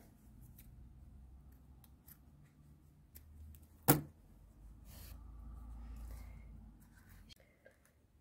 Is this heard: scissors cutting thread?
yes